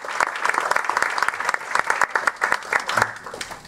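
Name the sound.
audience clapping at a meeting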